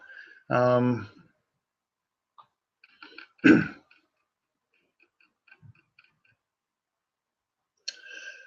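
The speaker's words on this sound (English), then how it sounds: "You can hear me clear my throat." A short burst of throat clearing, close and fairly loud, set between brief moments of speech and light clicks, with quiet gaps around it.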